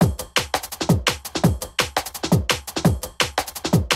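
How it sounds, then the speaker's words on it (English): Drum and bass break loop with punchy kicks and crisp snares, rapid busy breakbeat rhythm playing loud and alone with no voices. "For drums, I'm using a D&B break like this."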